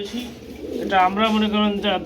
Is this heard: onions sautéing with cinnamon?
no